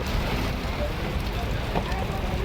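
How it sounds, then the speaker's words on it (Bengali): Heavy rain pours steadily at a railway station, a dense continuous wash of noise at constant loudness. "দেখো বৃষ্টি হচ্ছে কত জোর"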